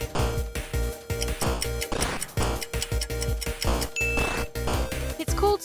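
Bleeps and clicks from the Atari 2600 game Circus come in rapid rhythmic bursts with short tonal dings, loud and continuous, with no talk.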